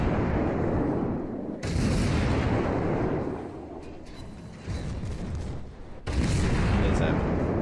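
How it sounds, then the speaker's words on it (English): Naval artillery salvos in World of Warships from a Russian cruiser, the Murmansk, heard as loud, heavy booms rolling out in long bursts, with a few short breaks between volleys. "Now he finally actually comes back and starts shooting at me."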